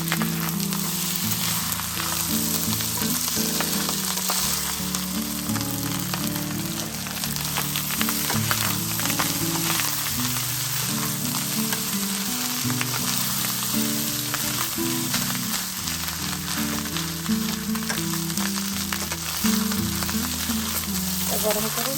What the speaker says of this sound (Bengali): যে রাইসগুলো দিয়ে দিচ্ছি।